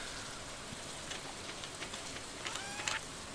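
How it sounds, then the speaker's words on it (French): Rain falling in the farming video game Stardew Valley, a soft, steady patter of small drops spread evenly across the whole stretch, quiet and without talk. "il pleut, juste des petits bruits"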